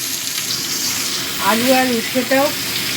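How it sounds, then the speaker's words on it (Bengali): Potato and pumpkin fry with bitter gourd in a pan, giving a steady close sizzle throughout with a voice speaking briefly over it midway. "আলু আর কুমড়োটাও উচ্ছের সাথে 1-2 মিনিট ভেজে নিলাম।"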